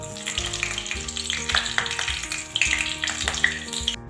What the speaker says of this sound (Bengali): ফোড়নটা খুব সুন্দরভাবে ভাজা হয়ে গেছে